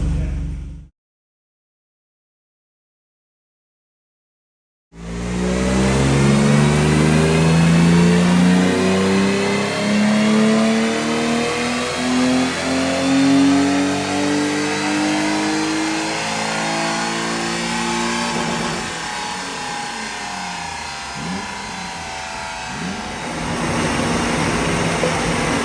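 A car revs hard on a dyno rolling road after a short silence, its engine climbing steadily in pitch through a long, loud, sustained pull before easing off and droning on.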